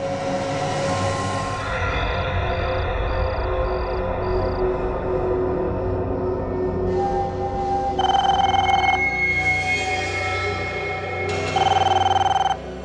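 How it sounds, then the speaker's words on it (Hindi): A telephone rings in repeated bursts over a steady low background hum, with the electronic ring growing louder toward the end. "किसका फोन हो सकता है?"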